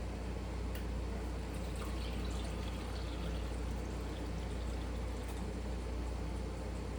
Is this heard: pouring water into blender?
yes